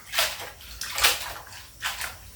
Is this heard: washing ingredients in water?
yes